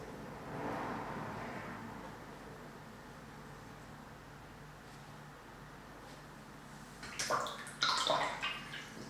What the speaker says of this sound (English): Clean the brush into the clean water, dry it off